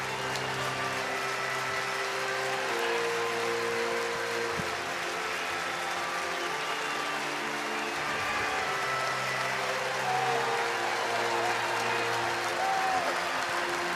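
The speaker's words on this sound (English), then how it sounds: "He should get a loud round of applause." Broad crowd applause from a distance at a College World Series baseball game, a continuous wash of clapping and cheering under a steady hum, with no clear voices on top.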